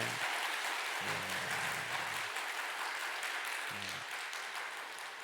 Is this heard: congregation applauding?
yes